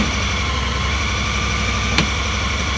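A Honda Pioneer 1000 UTV engine runs at a steady idle, a constant low rumble close by with one brief click near the end and no voices.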